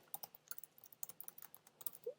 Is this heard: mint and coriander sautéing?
no